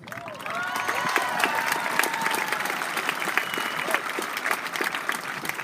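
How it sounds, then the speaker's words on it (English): A high school graduation crowd claps steadily, warm applause swelling quickly and continuing at a full, even level with a few scattered cheers. "give Master Sergeant Hess a round of applause for his support and his efforts"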